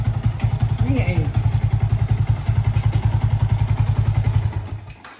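A Yamaha Y15 motorcycle engine runs close by at a steady, lumpy idle with a regular thumping beat, and a voice speaks briefly over it before the engine note fades out near the end.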